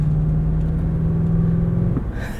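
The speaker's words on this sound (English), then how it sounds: "I love the sound of that V8." A 2023 Lexus GX 460's V8 engine while driving, a steady, close low rumble with an even droning tone that eases off slightly near the end, no voices.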